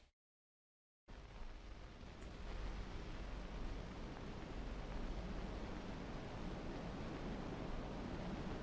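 Steady, dense wind-like rush from the Limbo video game's opening menu, rising after a second of silence and holding a constant broadband roar throughout with no voices.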